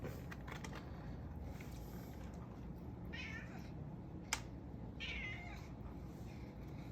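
A cat meows close by, two distinct calls about two seconds apart, over a quiet low background hum with a small click between them.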